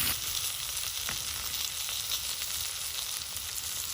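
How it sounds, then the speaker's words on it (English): Onions and asparagus fry in butter on a barbecue setup, a loud, steady crackling sizzle that continues without a break and with no talking. "We'll throw these onions right in here too."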